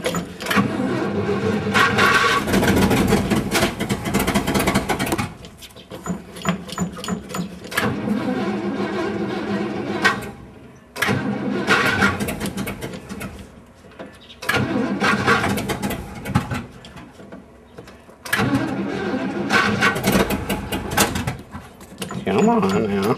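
The engine of a 1978 International Loadstar Carpenter school bus cranks after gas is poured into its carburetor to prime it. It turns over in loud, repeated bursts separated by short pauses, with a voice heard at points.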